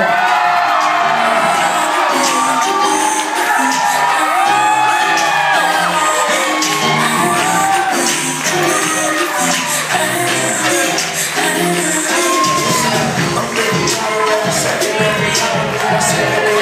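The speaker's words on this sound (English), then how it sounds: "clap in those hands. Nice and loud." Wedding guests cheer, whoop and clap loudly for the newly married bride and groom at their reception entrance, a dense, continuous crowd roar with music playing underneath throughout.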